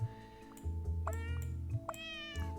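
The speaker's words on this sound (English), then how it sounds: "There's this big fat cat getting in the way of everything." A big fat cat meows in a puzzle video game, several clear tonal meows in a row over a steady low game-music drone, with no talking.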